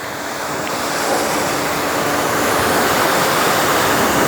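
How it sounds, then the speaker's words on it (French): High-pressure washer rinsing a dirty BMW Z4M car, a loud, continuous hissing spray that grows slightly louder and stays steady throughout, with no voices. "Alors il faut insister un peu sur le rinçage haute pression pour bien décoller toute la crasse."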